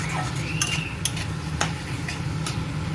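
A utensil scrapes and clinks in a pan while a sesame fish curry sizzles steadily underneath, with a few sharp taps over the continuous frying hiss.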